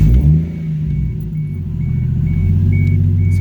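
A Toyota Supra MK3 with a 1JZGTE engine holds steady against a rev limiter, loud and close, its revs bouncing in a rapid repeating stutter throughout with no talk.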